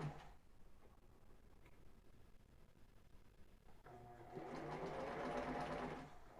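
A sewing machine stitches a ribbed knit tank top, quiet at first, then running in a steady fast whir for a couple of seconds.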